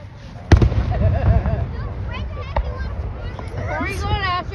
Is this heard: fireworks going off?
yes